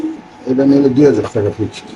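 Caged racing pigeons at a pigeon market coo in soft, throaty bursts close by, mixed in with people talking.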